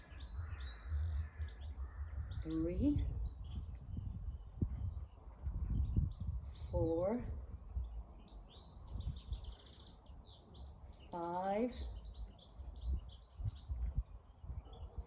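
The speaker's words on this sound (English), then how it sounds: "don't know if you can hear the birds singing" Birds singing and chirping outdoors, scattered short calls and a few louder sweeping notes, while a person counts aloud quietly in the foreground.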